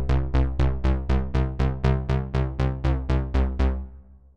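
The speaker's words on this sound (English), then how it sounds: "I've prepared a simple 8-note triggered bass" An 8-note triggered bass sequence on the Copperhead synthesizer for iOS pulses steadily, each plucked note decaying quickly, about fourteen evenly spaced hits, loud and dry with no voices.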